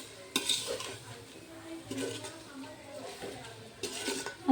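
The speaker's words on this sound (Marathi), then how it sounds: "या भाज्या सुद्धा मस्त व्यवस्थित एकत्रित करून घ्यायच्या" Vegetables being stirred with masala in a pot for Maharashtrian masale bhat, a few scraping spoon strokes and clinks against the metal over a faint sizzle, close and moderately quiet.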